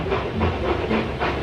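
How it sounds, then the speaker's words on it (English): Steady rhythmic chuffing of a steam engine with hissing and a low rumble, several puffs in a row, continuous and fairly close. "James and Edward puffed into the yard."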